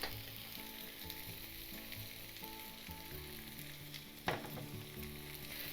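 Curry cheese tofu bites sizzle steadily in a pan while sautéing and browning, a constant hissing fry with low stirring scrapes, one sharper clatter near the end, and no voices.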